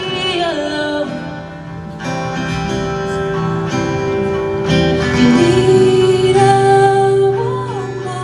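Recorded chorus of a song with a sustained voice or lead line over layered guitar and backing instruments, steady and fairly loud, without speech.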